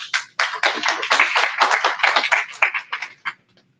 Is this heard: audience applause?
yes